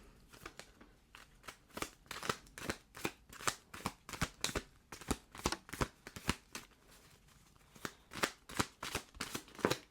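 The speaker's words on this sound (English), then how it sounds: "I'm going to pull some of these from the Lenormand deck." Lenormand oracle cards shuffled and drawn from a deck at close range, a quick, steady run of crisp paper riffles and flicks, quiet and heard alone.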